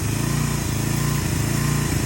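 A pressure washer's small engine runs steadily and loudly close by, with a constant low, buzzing drone and no talking.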